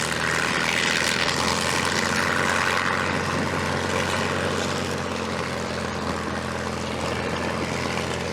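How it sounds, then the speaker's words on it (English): The Spitfire ML407 propeller aircraft performs a victory roll, its piston engine roaring loudly and steadily, with a deep drone that swells slightly and then eases. "Victory roll in the Spitfire."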